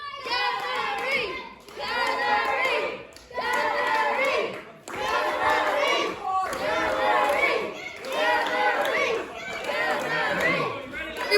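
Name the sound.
crowd chanting along at a wrestling match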